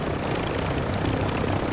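A helicopter flies in Warzone 2, its rotor and engine making a loud, dense, continuous roar that fills the whole moment.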